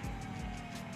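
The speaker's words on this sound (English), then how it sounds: "It's a car." A car engine in the video game GTA V gives a brief, moderately loud roar with a pulsing, revving quality, alone, for about a second.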